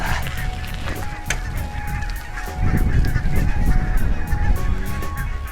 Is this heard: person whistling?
no